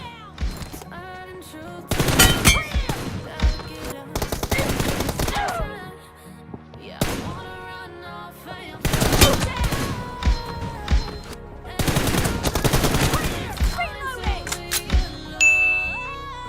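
Machine gun fire in the mobile battle royale game PUBG Mobile (BGMI), heard as several loud bursts of rapid automatic shots separated by quieter pauses with ringing, clinking game effects.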